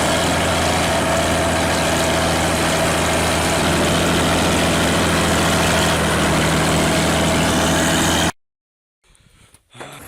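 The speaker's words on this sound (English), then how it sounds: "As a four-wheel drive heavy-duty tractor with a traction force of 50 kN, the K701 was trying to maneuver to free itself." Kirovets K701 four-wheel drive heavy-duty tractor stuck in thick snow, its engine droning loud and steady with a deep low rumble, then cutting off abruptly near the end, leaving near silence and faint scraping.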